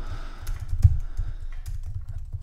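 Rapid clicking of keys on a computer keyboard, close and fairly quiet, tapping in an uneven typing rhythm with one sharper keystroke standing out.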